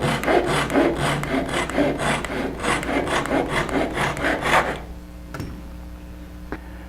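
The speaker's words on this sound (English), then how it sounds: "I like to use these pull saws when I'm cutting ebony." A Japanese pull saw cuts through a small ebony plug for a picture frame, giving loud, rapid rasping strokes for about five seconds before the sawing stops and the room falls quiet.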